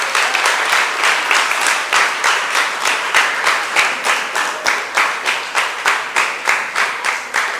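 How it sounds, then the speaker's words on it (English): Audience at a junior school graduation applauding the graduates' parents, with steady rhythmic clapping in a big room that keeps an even pulse from start to finish, with no talk over it. "I'm going to ask you to give the parents a round of applause."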